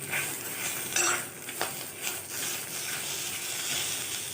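Curry leaves sautéing in a pan as soaked tamarind is added, a steady sizzle broken by a few utensil scrapes and clinks against the pan, near and moderately loud, with no voices.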